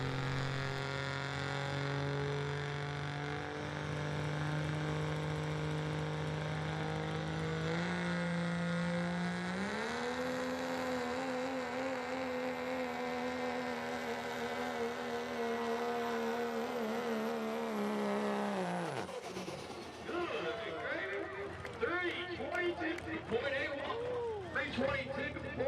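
A pulling truck's engine spools up at a truck and tractor pull, a loud steady whine climbing in pitch, then it drops off sharply into rougher, broken engine noise, with a commentator talking over it.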